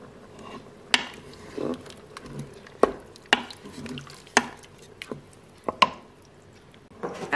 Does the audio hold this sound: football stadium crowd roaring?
no